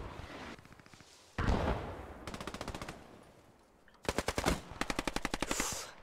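Machine gun fire in the Post Scriptum tournament match crackles in several rapid bursts: a distant short string, then louder close volleys, a pause, and a final heavy sustained burst.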